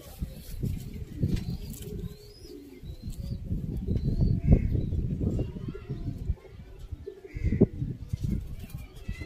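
Pigeons at a pigeon-keeping loft in Sialkot make soft cooing calls and bursts of wing flapping, near and fairly loud, with faint voices in the background.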